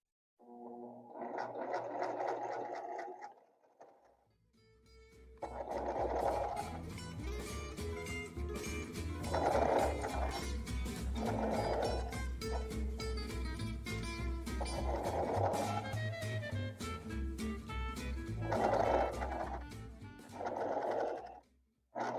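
Domestic sewing machine stitching a bulky denim jeans hem, running in several loud bursts with short pauses between, the needle's rapid clatter close and steady, no talking.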